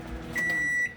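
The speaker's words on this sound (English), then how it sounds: "Now you can hear the microwave beeping." A microwave oven signals the end of cooking a banquet chicken strip meal with one sustained electronic beep, clear and close in a quiet kitchen.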